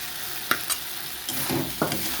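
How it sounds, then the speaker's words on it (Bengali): Potatoes stirred into a spiced masala with softened tomato for a prawn curry, giving a low steady sizzle broken by a few sharp spatula scrapes and clacks against the pan, close and alone. "আলুগুলো দিয়ে কিছুক্ষণ কষিয়ে নেব"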